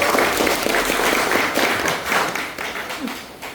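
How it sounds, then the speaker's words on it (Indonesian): Audience applause at a parenting seminar, dense clapping from a roomful of people that stays steady for a few seconds and then gradually tapers off. "Tepuk tangan untuk panjenengan semuanya."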